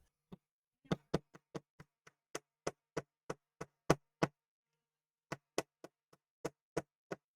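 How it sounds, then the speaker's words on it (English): A small screwdriver taps a stuck nut on a Flying V guitar, making many sharp, close knocks. A rapid run of taps is followed by a short pause, then a second run of evenly spaced taps. "I need a little screwdriver because I want to give that nut just a little tap to see if we can encourage it to leave."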